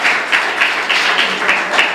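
A church congregation claps hard and steadily in rhythm during a worship service, a loud, dense burst of many hands filling the room.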